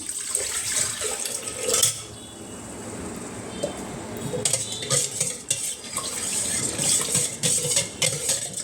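Fennel powder stirred into about 750 ml of water, with a steady scraping and swirling of a spoon against a vessel and small clinks throughout, close and fairly loud with no talking over it.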